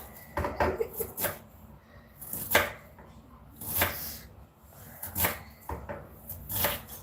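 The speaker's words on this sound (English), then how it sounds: "So I'm just going to cut the onion here" Knife chopping onion on a cutting board as small as possible, giving irregular clusters of sharp close taps with brief pauses between bursts, in a quiet home kitchen with no talk.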